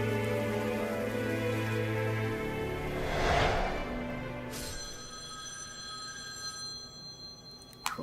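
A mobile phone rings faintly through a steady wash of background noise, its tone entering partway through and repeating as bright, sustained electronic ringing near the end.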